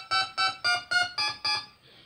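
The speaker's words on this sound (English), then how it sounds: "I hear telephone beeps." Six evenly spaced electronic telephone-style beeps from a modded SNES Classic Edition game, each short harmonic tone sounding clearly and loudly in a steady rhythm before fading into a faint tail, with no talking.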